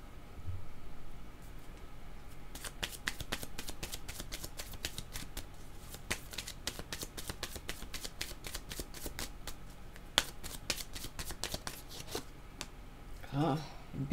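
A deck of tarot cards being shuffled up close, a long run of quick, crisp riffling flicks, fairly quiet, with soft speech in places.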